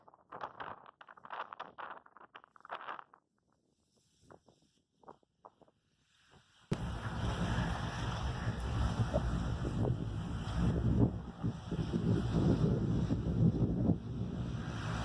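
Strong wind on a beach with pounding waves buffets the microphone in a loud continuous roar after a few seconds of faint, scattered sounds.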